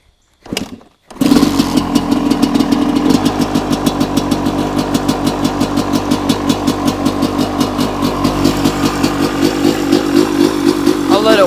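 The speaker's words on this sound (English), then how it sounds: "I'll let it warm up a little bit and then I'll rev it some for you guys." A Suzuki RM250 two-stroke dirt bike kicks over and starts from cold without the choke, then settles into a loud, steady, close-up idle with a rapid rhythmic popping that continues to the end.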